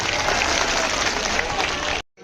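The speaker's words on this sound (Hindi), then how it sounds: "एक बार डॉक्टरों की टीम को भी ताली बजा करके धन्यवाद दो" A large audience at an outdoor Hindu religious gathering breaks into loud, sustained applause to thank a team of doctors. The clapping stops abruptly near the end.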